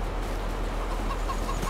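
Farm chickens in the Farming Simulator 22 video game cluck softly and continuously over a steady ambient background, with no talking.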